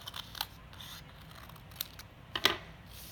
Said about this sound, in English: So we can cut out a shape right here.